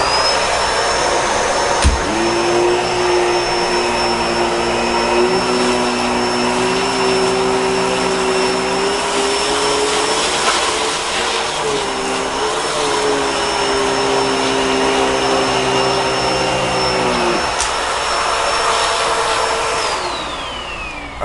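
A Bissell Pet Hair Eraser Turbo Plus upright vacuum runs loud and close while picking up spilled popcorn from the floor, a constant whining motor drone with a pitch dip partway through and a falling tone as it winds down at the end.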